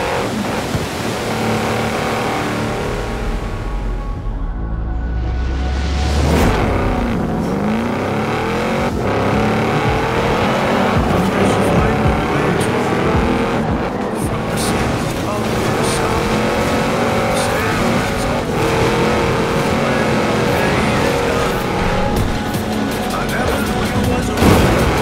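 Lamborghini Urus Concept engine in the racing game Forza Horizon 4, loud sustained revving with rising and falling pitch sweeps as it accelerates and shifts, running continuously with hints of tire noise.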